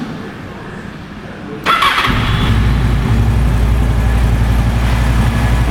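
A 2007 Honda VFR800 Interceptor motorcycle with low miles starts up: a brief cranking whir, then the engine catches and settles into a steady, loud, close idle rumble.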